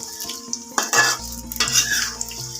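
Chilies frying in a small wok for sambal goreng kentang, a sudden bright sizzle and spatter that starts partway through, mixed with utensil scraping and a low hum, close and fairly loud.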